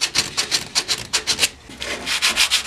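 Sandpaper rubbed over a steel handsaw blade during restoration, a close, steady rhythm of quick back-and-forth scratchy strokes with a brief pause midway, no talking.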